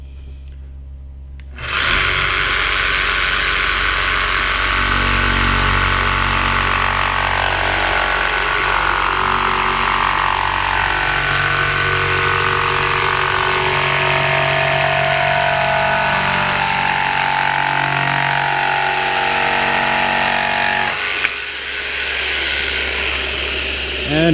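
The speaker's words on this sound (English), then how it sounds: "We want to make sure that the blade is not touching the material before we start the saw." A jigsaw starts up and cuts through material, a loud, steady buzzing whine that runs continuously for about twenty seconds, then stops briefly and restarts near the end.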